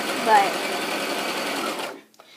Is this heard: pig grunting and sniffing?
no